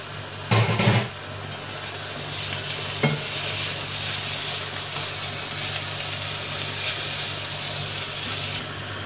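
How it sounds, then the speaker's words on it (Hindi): Onions with garlic and ginger sizzle steadily in a hot pan, a continuous frying hiss with a brief stir or clatter near the start and another soft knock partway through, no voices. "ये हमारा प्याज सौते हो रहे हैं"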